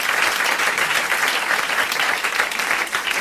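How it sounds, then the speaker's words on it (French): A French television game-show studio audience in 1984 applauds contestant Monsieur Legrand from Charleville, with dense, steady, loud clapping lasting the full stretch and no break. "alors vous applaudissez Monsieur Legrand de Charleville"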